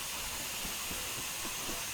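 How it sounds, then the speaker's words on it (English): A J70 tram engine in a train simulator game gives off a continuous broadband hiss of leaking steam, steady and fairly close, with faint low mechanical chuffs underneath. "Bit of leaky steam coming from under there"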